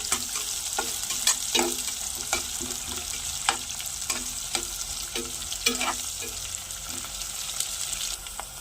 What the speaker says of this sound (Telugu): ఒక జస్ట్ ఒక టూ మినిట్స్ ఇలా ఫ్రై చేస్తే మనకి కలర్ చేంజ్ అవుతుంది